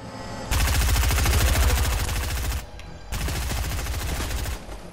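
Rapid gunfire in Fortnite, a loud close stream of shots that runs for about two seconds, breaks off briefly, then starts again and runs until near the end.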